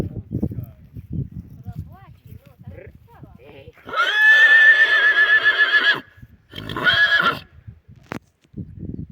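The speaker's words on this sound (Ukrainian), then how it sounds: "Такий такий жеребець." A young draught stallion, about four years old, whinnies loudly twice, a long shrill neigh followed by a shorter one, between bursts of nearby talk and hoof or handling noises.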